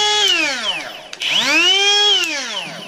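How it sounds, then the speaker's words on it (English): A Hilti spiral saw, a drywall router, runs up with a rising whine, briefly dips and then spins back up to a loud, steady high pitch, heard close and alone. "that's the Hilti spiral saw, the drywall router"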